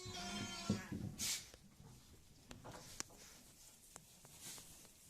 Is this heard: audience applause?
no